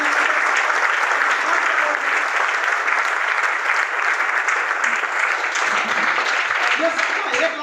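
Dense, steady applause fills a hall for a respected teacher at a Janshakti Group gathering, loud and continuous from start to finish, with some voices faintly audible beneath the clapping.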